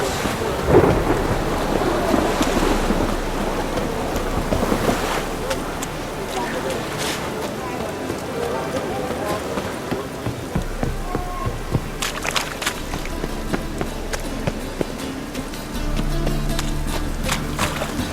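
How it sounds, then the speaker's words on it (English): Rain and thunder in a live-streamed game fill the scene with steady, dense rainfall and repeated rolling rumbles of thunder that swell and fade, loud and continuous throughout. "I like rain."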